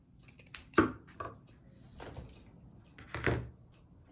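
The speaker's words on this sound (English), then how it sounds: "took the corner, and then just cut it into a square" Scissors snip through a piece of felt to cut a square beak for a sock turkey, a few separate crisp cuts spaced across the moment, close and moderately loud.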